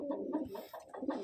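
A Madrasi pigeon coos close by in a few short, throaty bursts, with no voices heard.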